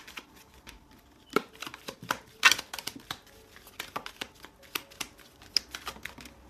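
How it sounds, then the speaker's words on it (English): Pure Love Oracle and tarot cards being shuffled and drawn by hand: a string of soft, dry card snaps and flicks in an uneven rhythm, close and fairly quiet, with no voice over them. "pull 2 cards for the masculine and 2 for the feminine"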